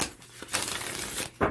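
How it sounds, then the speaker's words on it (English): Oracle cards being shuffled by hand, a short burst of papery riffling and rustling with a sharper flick at the end. "I'm going to shuffle some oracle cards"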